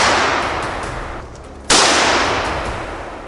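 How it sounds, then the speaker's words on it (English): Rapid gunfire aimed at wild boars rings out in a loud, dense burst that fades, breaks off briefly, then resumes with a sharp report and another decaying tail. "Without delay, rapid gunshots echoed"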